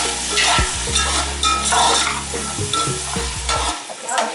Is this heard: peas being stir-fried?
yes